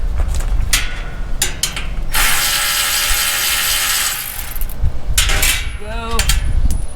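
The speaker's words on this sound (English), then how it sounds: "I can just use a regular 1/2-inch wrench because the nut is literally" A 1/2-inch wrench turning a nut while installing steps on an RV, giving quick metallic ratcheting clicks and clanks up close, with a brief grinding whir in the middle and a voice talking over parts of it.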